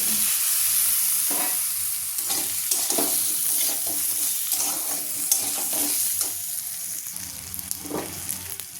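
Carrots with fried potato and pointed gourd are stirred with cumin powder in a pan for khichuri, a close, busy sizzle broken by frequent scraping strokes of the spatula.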